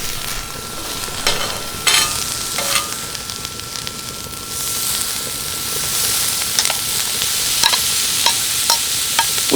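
Vegetables, heaped with peppers, sizzle in a pan on a camp stove inside a van in winter mountains, a steady loud fry broken by scraping, clinking stirs of the utensil.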